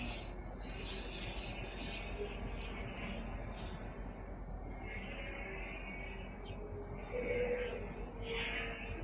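An E-Flite Eratix RC plane flying on a non-standard propeller gives a steady, distant motor drone that rises briefly toward the end, with faint outdoor background.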